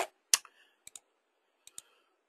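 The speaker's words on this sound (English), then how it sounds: "now I can continue typing in here" Sparse, faint clicks of typing on a computer keyboard while working in CorelDRAW X7, a few isolated keystrokes in a quiet room with no talking.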